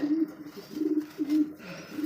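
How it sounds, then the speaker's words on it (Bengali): Pigeons in a breeding-farm cage coo softly in short repeated low purring calls, fairly faint and close, with no talking. "আচ্ছা দেখেন অনেক ছটফটে কবুতর"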